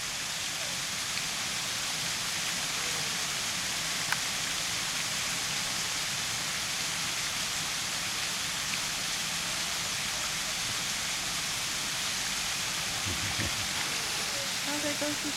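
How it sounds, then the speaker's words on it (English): Fountains at Longwood Gardens pour and splash in a continuous, even hiss of falling water, filling the whole stretch with a dense, unbroken wash. "Probably likes the sound of the fountains."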